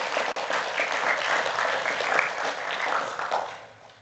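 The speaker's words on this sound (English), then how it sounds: "please give one warm applause again to all the maintainers" A meetup audience claps for software maintainers, an even burst of applause from a room of people that holds steady for about three seconds and then tapers off.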